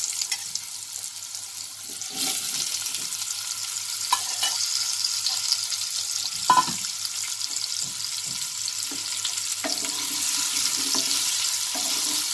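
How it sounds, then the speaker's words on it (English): Potatoes fry on a high flame in a pan for aloo gobi, a steady bright sizzle throughout with occasional stirring clinks, no talking. "I'll increase the flame now, and I'll fry this on a high flame for 3 minutes"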